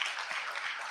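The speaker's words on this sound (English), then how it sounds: "Parents, please give them another round of applause." Brief burst of audience applause at a Sunday morning satsang at Arya Spiritual Center after a children's performance, a dense patter of many hands clapping together.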